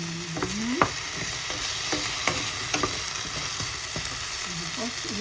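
Potatoes sizzle in a hot pan with a continuous frying hiss, broken by scattered clinks and scrapes as a utensil stirs them.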